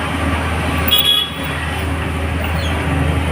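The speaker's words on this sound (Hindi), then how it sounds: "बहुत ज़्यादा गाड़ी जाम हो रखा है यहाँ पे।" Car horns toot briefly amid a steady roar of engines and traffic noise in a congested street jam near a school, with one clear honk standing out over the constant rumble.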